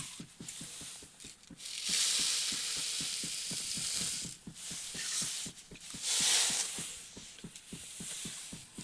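About 500 ml of water and two cups of sugar boil in a wok with a steady bubbling hiss that swells and fades, while a fast, regular ticking pulse runs underneath throughout.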